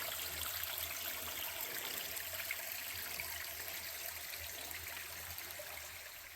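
A stream in a canyon at Big South Fork flows and trickles steadily in a soft, continuous rush, no voices, fading slightly toward the end.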